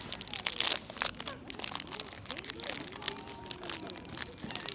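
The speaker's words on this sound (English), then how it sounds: "This cookie is so crunchy and it's covered with some sugar" A crunchy, sugar-coated cookie is bitten and chewed close up, giving a run of crisp crackling crunches of varying loudness against a quiet background.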